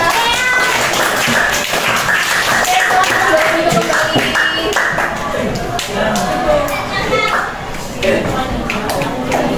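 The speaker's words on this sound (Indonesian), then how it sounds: "kita beri tepuk tangan untuk kelompok 4." A sixth-grade religious education class claps for a student group, with scattered claps and taps mixed with children's voices and a teacher speaking over them.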